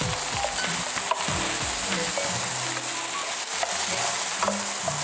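Fried rice with green and yellow peppers and parsley sizzles in a frying pan while a utensil scrapes and stirs it in quick, repeated strokes. The sizzle hisses continuously underneath, with no voices.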